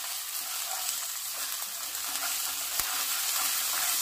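Gujarati kadhi with green moong is stirred in a pan, a quiet sizzle with soft scraping and faint clinks running steadily underneath.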